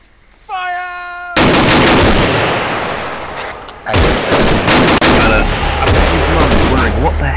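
Rapid bursts of rifle fire crackle loudly on a range in a military video game, following an opening synthetic tone, dense and continuous with a brief lull before another barrage of shots.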